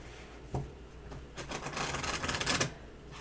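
A Herbal Astrology Oracle card deck being shuffled by hand, with a brief tap followed by a steady run of dense riffling card flutters, close and fairly quiet.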